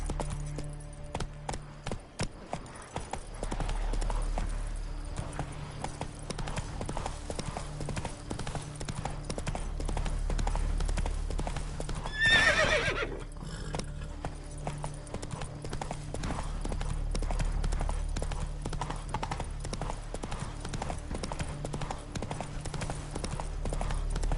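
The horse Roach in The Witcher 3 trotting along with a steady rhythmic clip-clop of hooves, medium distance, over a low game ambience, with a brief higher sound midway that may be a faint neigh.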